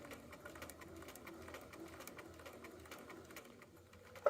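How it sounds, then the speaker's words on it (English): A sewing machine runs steadily, stitching fabric along a quarter-inch seam allowance toward a marked point; the mechanical whir is fairly quiet and continuous, ending with a brief louder click. "And I'm going to sew to this next mark."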